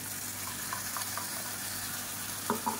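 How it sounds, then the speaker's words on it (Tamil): Tomato paste sizzles steadily in a frying pan of hot oil, a continuous close crackling hiss with a few soft clinks of a utensil near the end. "இப்போ நம்ம அரைச்சி வச்சுருக்க அந்த தக்காளி பேஸ்ட்டை சேர்த்துக்கலாம்"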